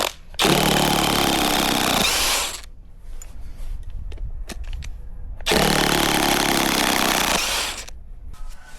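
A cordless impact wrench hammers at a long screw in an oak stump, firing in two loud, sustained bursts of rapid rattling impacts, each lasting a couple of seconds, separated by a quieter pause with faint clicks.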